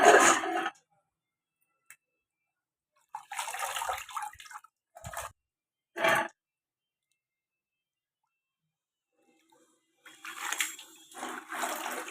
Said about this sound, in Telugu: తోటకూర శుభ్రంగా కడుక్కోవాలండి.